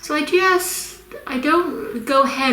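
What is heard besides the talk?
No everyday noise stands out behind the speech.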